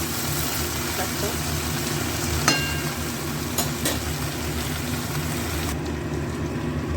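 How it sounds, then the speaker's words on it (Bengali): Okra and potatoes frying in a pan while being stirred, a steady sizzle running throughout with occasional scraping clinks, under a continuous low background hum. "এবার দেখো ভেন্ডি আলুটা মোটামুটি ভালো ভাজা হয়ে গেছে।"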